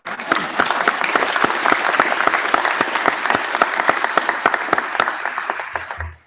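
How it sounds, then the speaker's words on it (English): An audience at a university convocation ceremony gives a graduate a sustained round of applause, dense, even clapping for about six seconds before it stops abruptly. "And she gets a round of applause all on her own."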